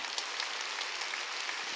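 A church congregation claps together in a dense, even patter of applause, moderately loud and steady for a couple of seconds, with no voices over it.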